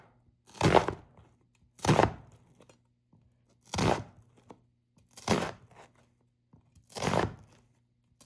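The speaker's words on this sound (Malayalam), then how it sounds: "നമുക്ക് സവാള അരിയുന്നത്" An onion is cut with a knife on a board in a home kitchen, giving five separate crunchy chops spaced over several quiet seconds, close and fairly soft, with no talking.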